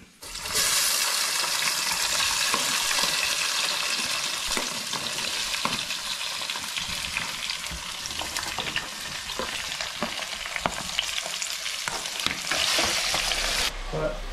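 Onions and spices for butter chicken saute in a hot pan, giving a loud, continuous sizzle. Stirring scrapes come through in irregular bursts and the frying cuts off just before the end.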